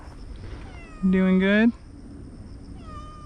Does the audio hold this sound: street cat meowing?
yes